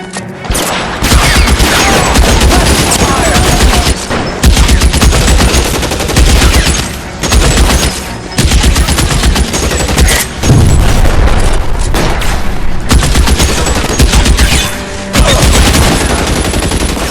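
A heavy gunfight in the video game LA Noire: loud, dense bursts of rapid gunfire and booming shots run almost continuously, with only brief gaps between volleys.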